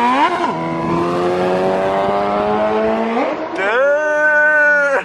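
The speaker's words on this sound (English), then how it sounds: "For now, we're heading out in the Yeezy car." A car pulls away and accelerates hard, engine pitch climbing through gears with a clear drop and renewed rise near the end, loud and close with no talk over it.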